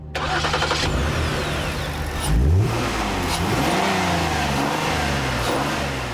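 A 2011 Ford Explorer's 3.5-litre V6 engine revs up and accelerates, a loud steady mid-pitched roar with a surge in the middle, close by and alone without voices.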